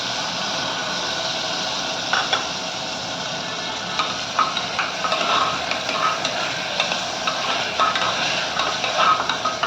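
Tomatoes and carrot pieces being stirred in a pan, giving a continuous close sizzle with repeated scraping and stirring strokes that grow more frequent in the second half, no voices.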